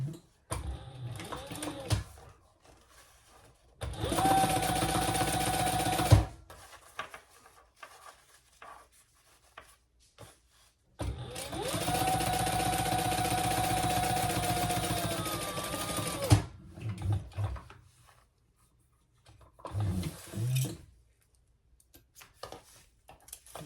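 A sewing machine top-stitches through fabric and lining for an enlarged triple sling, two long steady whirring runs of rapid needle strokes, then a brief third burst, with quiet handling between and no talk.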